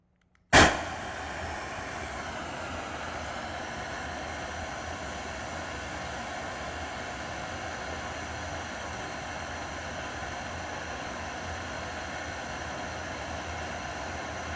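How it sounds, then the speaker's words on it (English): Pink noise plays loudly through a Rockford car audio amplifier system, a dense, steady broadband hiss that starts abruptly and holds at constant volume throughout. "I'm going to play our pink noise and then bring up the volume."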